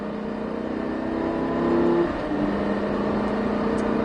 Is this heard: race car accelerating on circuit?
yes